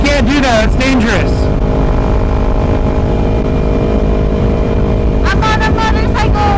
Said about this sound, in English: I'm on a motorcycle.